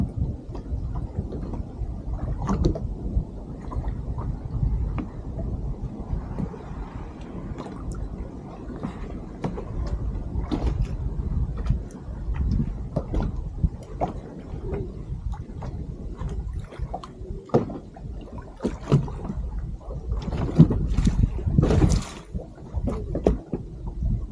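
Small fishing boat drifting on a lake during drop-shot and Carolina-rig finesse fishing, with steady low water lapping and occasional hull knocks and creaks close by, no talking.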